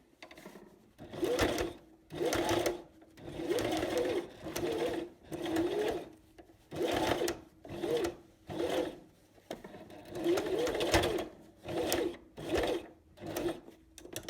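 A sewing machine back-stitches a fly front zipper in short, close whirring bursts separated by brief pauses, with no talk.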